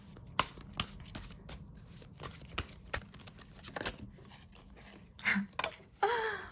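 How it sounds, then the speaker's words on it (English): Tarot cards shuffled and drawn by hand, a series of quick papery riffles and taps close up, ending in a brief flurry of card handling and a light slap. "Let's just pick one more card."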